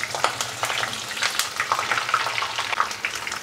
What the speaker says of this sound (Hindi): तो गैस का फ्लेम हम मीडियम करके गोभी को फ्राई कर लेंगे हल्का कलर चेंज हो जाने तक